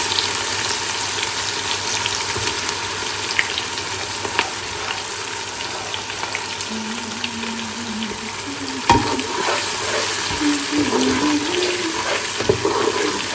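Onions sizzle steadily in hot olive oil with garam masala in a pan, a constant close crackling hiss with occasional stirring clinks and faint background tones.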